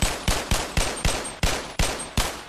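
Modded gun firing in the VR game Bonelab: eight loud, sharp shots in a fairly even rhythm, each with a short decaying tail, with no talk.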